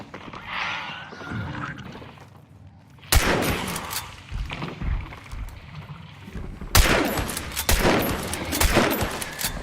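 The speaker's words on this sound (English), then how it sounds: "Those guys are shooting." Bursts of video game gunfire during a raid, loud cracking volleys that start abruptly and return after a lull, with scattered shots and background rumble between them.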